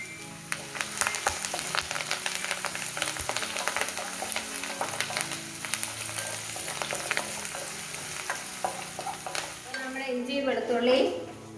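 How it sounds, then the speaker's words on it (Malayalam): Mustard seeds, fenugreek and dried red chillies frying in oil, with dense popping and spattering over a constant sizzle, a few metal pan scrapes, and a louder burst of bubbling near the end. "കടുക് ഉലുവ മുളക് ഇതെല്ലാം മൂത്തും നല്ലതായിട്ട് മൂത്തു"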